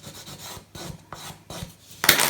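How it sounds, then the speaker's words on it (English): Close-up rubbing and rasping as a tool burnishes folds and seams of a paper gift card wallet, several short strokes in a row ending in a louder, brighter swipe, with no talking. "let's give it another little burnish here"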